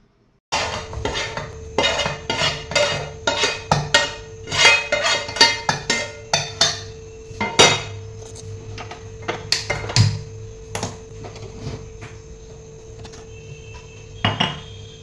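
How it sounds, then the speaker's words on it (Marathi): Metal pots and dishes clatter and clank as they are set down in a kitchen sink basin, a rapid series of close, sharp knocks that thins out into sparse clinks. "सगळी भांडी थोडीशी बेसिनमध्ये ठेवते"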